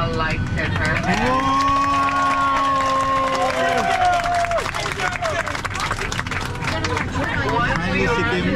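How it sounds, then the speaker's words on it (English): Airplane passengers clapping and cheering in the cabin, a sustained crowd of claps with a drawn-out voiced cheer and chatter mixed in. "Everybody clap for the girl with the lights in her head"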